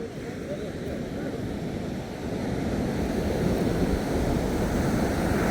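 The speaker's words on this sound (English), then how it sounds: "I love that sound, the sound of the sea, the waves, the crashing on the beach" Sea waves crash and surge continuously on Ōakura Beach, a steady broadband roar with wind noise buffeting the microphone, growing slightly louder partway through.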